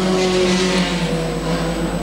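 Junior sedan race cars circle a track in a heat race, a steady loud engine drone with a sustained hum and no break, no voices over it.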